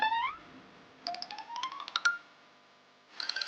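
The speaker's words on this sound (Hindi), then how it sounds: "पूनम का फोन लगा दो" A phone placing a call: a short series of electronic dialing beeps and a rising tone, then a pause and more tones, clear and close in an otherwise quiet room.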